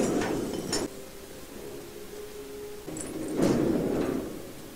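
A heavy gate slides open in an animated series, a low grinding rumble lasting a couple of seconds, with brief thuds and clatter before and after.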